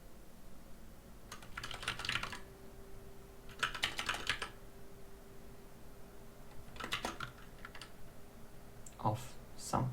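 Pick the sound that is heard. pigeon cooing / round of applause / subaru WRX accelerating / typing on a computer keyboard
typing on a computer keyboard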